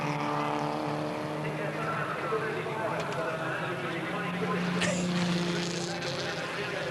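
1984 Holden Gemini race cars rumble through the esses at Surfers Paradise circuit, heard from a distance with a steady engine drone under continuous race commentary.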